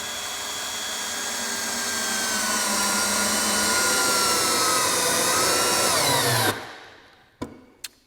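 A Milwaukee drill running in single speed drives a large fastener, a steady loud motor whine that slowly drops in pitch under load for about six seconds, then stops, followed by two sharp clicks.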